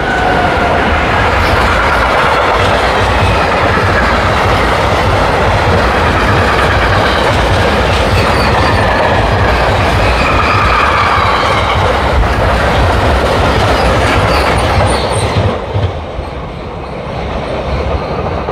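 Freight train hauled by a Class 145 electric locomotive rolls past close by, a loud steady rumble and clatter of wagons that ends abruptly as the last car clears.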